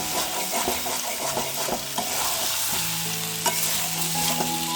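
Aloo dum, new potatoes in sauce, sizzles and fries in a pan, with steady close stirring and scraping of a utensil over a continuous bubbling sizzle.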